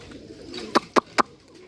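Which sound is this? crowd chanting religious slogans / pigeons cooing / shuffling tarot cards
pigeons cooing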